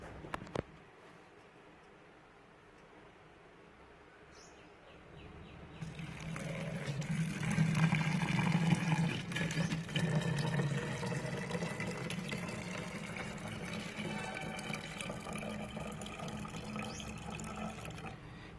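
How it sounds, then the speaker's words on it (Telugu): Water poured into a bottle holding banana peel pieces, starting after a quiet handling moment and running as a steady gurgling stream with rising pitch as the bottle fills, close and moderate. "ఇప్పుడు మీకు దీంట్లో కొంచెం వాటర్ వేసుకోవాలి"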